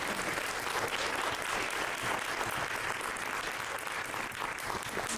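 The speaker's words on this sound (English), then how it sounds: "Let's give her a round of applause for all her achievements." A conference audience at a women's empowerment event applauds steadily, dense and sustained clapping filling the room at an even level throughout.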